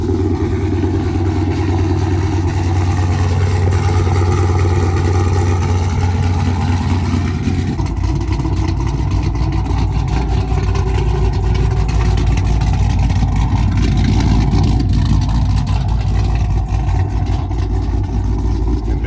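A Chrysler 300C with a nitrous build starts up and settles into a loud, steady, rumbling idle close to the listener, with a deep engine drone that holds for the whole stretch.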